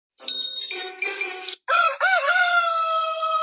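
A rooster crows loudly and close at six in the morning, one long call followed by another drawn-out crow, with short breaks between phrases.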